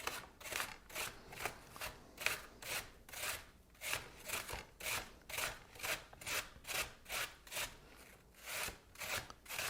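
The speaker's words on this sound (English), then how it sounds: "Grating apple slices, I'm not the best at" Apple slices are rubbed over a grater in a steady back-and-forth rhythm, about a dozen close, rasping strokes that evenly rise and fall, quiet and intimate.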